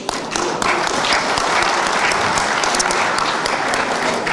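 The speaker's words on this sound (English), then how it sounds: "Let's give him a round of applause." Audience applause welcoming the host of the second session at an Asian local councillors' international forum, steady dense clapping filling the hall at close range for the whole stretch.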